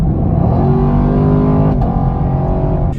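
A 2021 Chevrolet Camaro with the LT1 V8 and GM 10-speed automatic accelerates hard, its engine droning loudly and steadily, with a brief dip partway through as the gearbox shifts.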